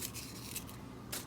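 Celery for a potato stew is chopped with a knife, giving a few quick crisp cuts close by and quiet, with no talking.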